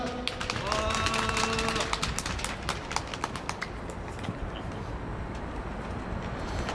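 Scattered clapping from an outdoor crowd at a school non-regular workers' union rally in Sejong greets a speaker, loud at first then quickly thinning into faint background murmur, with a brief voice at the start.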